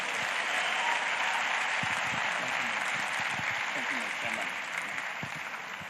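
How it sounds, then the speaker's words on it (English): Sustained applause from a large audience at a mass graduation ceremony for ten thousand skills-programme graduates in Imo, Nigeria, a dense steady clapping that fills the whole stretch and eases slightly toward the end. "Keep clapping your hands."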